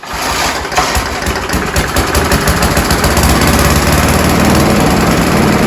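A Briggs & Stratton four-stroke lawn mower engine with an alloy body is pull-started and catches at once, then runs at a steady, loud, close chugging drone for several seconds with no speech.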